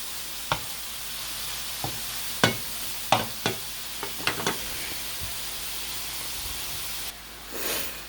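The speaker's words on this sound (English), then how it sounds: "so that all of the meat gets brown. So it's going to take a minute to break it all up." Cheesesteak beef browning in a pan, a steady hissing sizzle broken by repeated sharp scrapes and taps as a utensil breaks up the meat, close and moderately loud with no talk.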